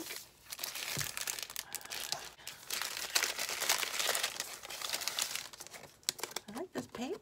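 Art paper being handled during an art supply haul, crinkling and rustling in bursts of varied strength, close by and fairly loud, with someone speaking at times over it.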